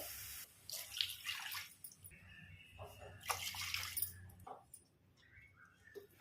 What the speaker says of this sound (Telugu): ఇప్పుడు పాలు పోసాం కదా, ఈ సేమియా అంతా కూడా ఉడికించుకోవాలి.